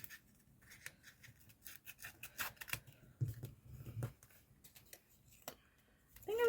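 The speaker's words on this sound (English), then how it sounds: "Cut Sneely out." Scissors snip a figure out of a paper Christmas card in a quiet room, with a scatter of faint, close clicks and crisp cuts in irregular bursts.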